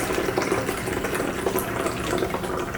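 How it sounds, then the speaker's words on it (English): Black-and-white film developing chemistry, Cinestill monobath, poured back into its bottle, a steady liquid splash and trickle running close by for about three seconds without a break. "then we'll pour the rest back into the bottle"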